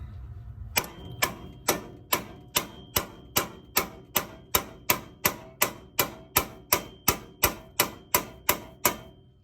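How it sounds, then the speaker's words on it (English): Heavy, evenly spaced hammer blows strike a front strut bolt on a 2002 Oldsmobile Bravada, about twenty sharp metallic knocks ringing close and loud in a steady rhythm. "we'll try a little bit heavier tapping"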